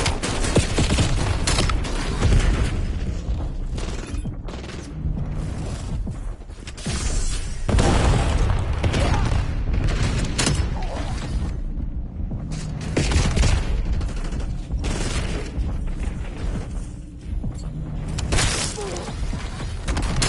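Video game firefight with a grenade blast amid dense, continuous gunfire and bursts of automatic fire, loud and close throughout with repeated booms and crackling shots.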